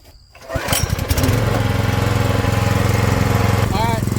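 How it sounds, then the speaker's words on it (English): A Honda GX160 small engine on a firewood processor at a firewood expo starts up and settles into a loud, close, steady running drone with a rapid pulsing rhythm. "This is the Honda GX160."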